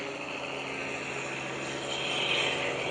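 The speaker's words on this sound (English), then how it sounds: "he's got a Russian MP-14 engine" An aerobatic airplane with a Russian MP-14 radial engine flies during an airshow at Greenwood Lake, its steady propeller drone loud and continuous, swelling slightly toward the end as it passes.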